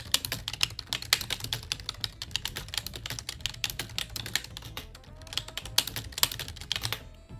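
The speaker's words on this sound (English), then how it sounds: "Sorry for the clickety clackety." Rapid clicking of a computer keyboard being typed on close up, irregular bursts of keystrokes running nearly continuously with a brief lull near the end.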